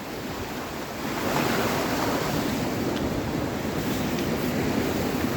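Rushing current of the flooded River Soar, a broad steady roar of churning water with wind buffeting the microphone, continuous and fairly loud throughout with no voices.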